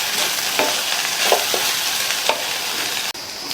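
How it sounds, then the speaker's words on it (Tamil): Green beans mixed with a ground peanut mixture are stirred in a pan, giving a brief, even sizzle with a few soft scraping strokes. "சேர்த்துட்டு நல்லா ஒன்று போல மிக்ஸ் பண்ணி விட்டுக்கங்க"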